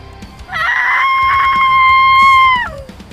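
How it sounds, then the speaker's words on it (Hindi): A woman screams in terror in a Hindi horror audio drama. It is one loud, sustained, piercing shriek lasting about two seconds that rises out of a quiet background and stands alone. "पसीने से तरबतर वह अपनी पूरी शक्ति खर्च कर चीख पड़ी।"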